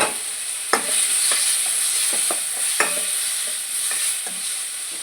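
A spoon stirring palak mutton curry in a sizzling pan as turmeric is added, with steady frying hiss and several distinct scraping strokes against the pan close up.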